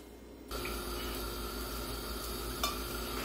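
Olive oil, a couple of tablespoons, heating in a pan for stewed string beans, giving a steady soft sizzle that starts abruptly after a brief quiet moment and holds evenly, with a faint tick near the end and no talking.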